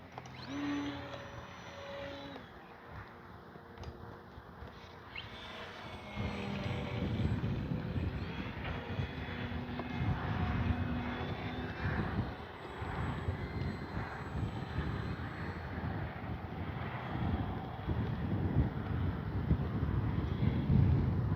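A HobbyZone Carbon Cub S2 model airplane engine whines overhead, its pitch rising and falling as it swoops, climbs and flies knife edge, with wind buffeting the microphone throughout.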